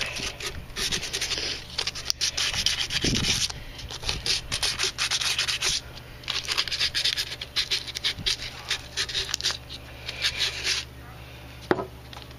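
A plastic car part is hand-sanded with protective tack tape in place, giving steady rasping strokes in repeated bursts, close and fairly loud, with occasional bumps.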